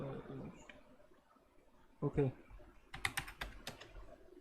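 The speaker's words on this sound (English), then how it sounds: "just type the password" Someone taps a computer keyboard, entering a password in a Linux terminal, with a short burst of quick, close keystrokes near the end after brief speech earlier.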